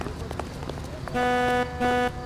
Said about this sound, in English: Do not honk at me.